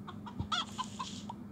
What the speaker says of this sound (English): they had chicken sounds too.